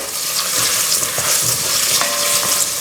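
Sausages frying in a pan: a loud, steady sizzle with occasional scrapes and clicks as they are stirred, close up and with no talk.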